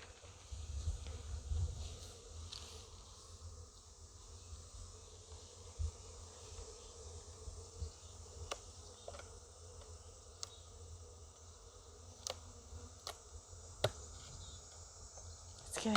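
Angry honey bees swarm during a hive inspection, giving a faint, steady buzzing drone throughout with occasional sharper passes close by, and no talk over it.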